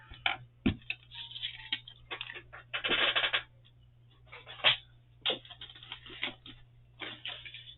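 Paper is trimmed for a soft-covered journal in a sequence of close, irregular crisp cuts and slices, some sharp snaps and a longer rasping stroke, separated by quiet pauses.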